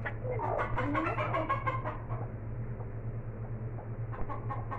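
Hen clucking and calling from close range in a short outdoor burst over a steady low hum, with a few chicken vocalizations near the start.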